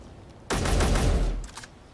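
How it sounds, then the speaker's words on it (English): Video game gunfire and grenade launches erupt in a loud, dense burst of overlapping shots and booms, sustained for about a second before trailing off into scattered pops. "Explosions everywhere. I can hear somebody firing off grenades."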